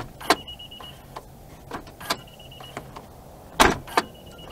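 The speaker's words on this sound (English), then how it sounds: "It won't actually let the trunk close on me." Honda Clarity trunk refusing to close with the key inside: sharp mechanical clunks and latch thuds spaced out over a few seconds, with intermittent chiming warning beeps, close and otherwise quiet.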